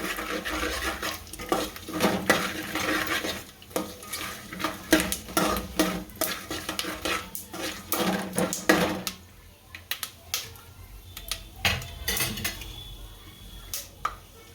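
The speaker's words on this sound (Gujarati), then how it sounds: "થોડું હલાવી નાખીએ એટલે બધું ગરમ થઈ જાય। હવે સિંગદાણા નાખી દઈએ" A spoon stirs Jalaram khichdi with peanuts in a cooking pot, giving close, repeated scraping and clinking strokes against the metal in an uneven rhythm, with no talk and slightly softer strokes near the end.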